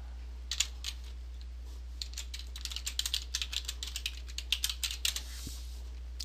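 Computer keyboard typing with a steady run of light, quick keystroke clicks, close and fairly quiet over a low background hum.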